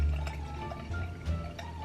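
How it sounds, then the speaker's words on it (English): Drink being poured into a glass, a soft liquid trickle and splash running close and fairly quiet for about two seconds with no talk. "I'm pouring my second glass right now"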